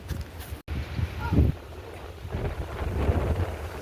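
Strong wind buffets the microphone with low rumbling gusts while waves wash and crash nearby, and the roar surges and fades unevenly.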